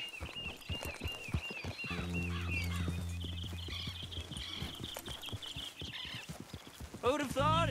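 Steady hoof clip-clops of a horse trot along in an even rhythm, with birds chirping and a low musical drone in the background, in the video game Red Dead Redemption 2.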